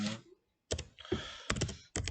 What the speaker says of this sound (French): qui testait le clavier et on sortait en appuyant sur A